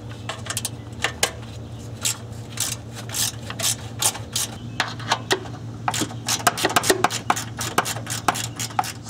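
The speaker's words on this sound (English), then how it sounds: "super long extension, place it over the end of the ratchet, and now you have an incredibly long handle" A hand ratchet fitted with a long extension handle clicks repeatedly while turned on a Subaru transmission oil cooler line fitting, producing steady irregular metallic clicks over a low background hum, close up.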